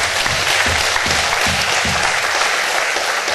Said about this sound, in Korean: 영광의 박수 해주시겠습니다.